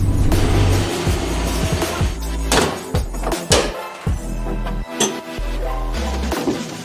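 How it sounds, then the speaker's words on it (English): A Mazda Miata on a test drive to warm up: engine revving and shifting through gears up close, with surges and brief dips in the engine note, plus small cabin clunks. "the first thing to do is to go on a test drive to warm this thing up to operating temperature"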